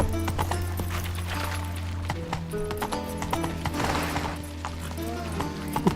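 Hooves of Roach, the horse in The Witcher 3: Wild Hunt, clip-clop in a steady rhythm for several seconds, with a brief whinny and faint game sounds behind.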